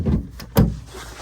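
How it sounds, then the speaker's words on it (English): Lockable storage door on a 2024 Excel 1864 Switchblade boat, a couple of close clicks and thumps as it is worked, then a quiet pause. "This door here is lockable, some additional storage"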